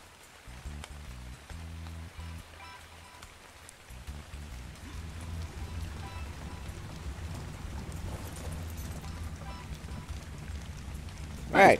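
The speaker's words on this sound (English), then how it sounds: "Perfect time for the rain." Rain in the video game Ark Crystal Isles falls as a steady, soft hiss, building gradually under low rumbling game sounds while the ship sails in, ending on a sharp noise.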